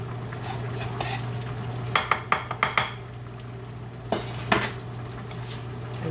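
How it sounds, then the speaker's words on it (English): A spoon stirs potato salad in a bowl, making quiet scraping clinks: a quick cluster of sharp taps midway, then a couple more, over a low steady kitchen hum with no talk. "I'm gonna stir it up"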